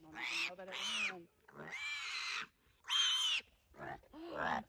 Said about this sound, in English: Whose idea was it to get Pig